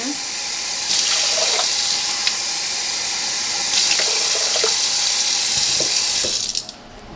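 Water runs steadily from a tap into a rice pot for several seconds, a broad hissing pour with brief changes in flow, stopping near the end.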